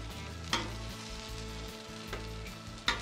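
Chicken wings, flats and drums, sizzle steadily on a hot Blackstone griddle in rendering fat, a dense close frying hiss with a few sharp crackles and clinks as pieces are set down.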